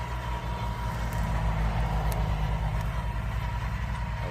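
A Kubota B2440 small tractor runs steadily with a rotary tiller between sugarcane rows, its low engine drone and churning rumble continuous and fairly close throughout.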